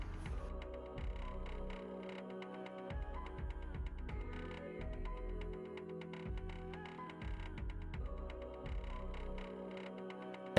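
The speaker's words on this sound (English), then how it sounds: "I'm gonna get my printer ready." A 3D printer runs steadily at low level, its stepper motors giving a continuous tonal hum with shifting pitches and rhythmic pulsing throughout, with no voices.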